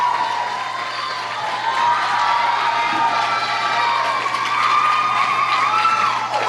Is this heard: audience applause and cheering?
yes